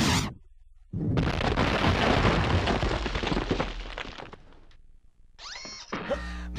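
An explosion in the video game Conker's Bad Fur Day, a sudden loud blast that rumbles and decays over several seconds, followed by brief electronic game tones.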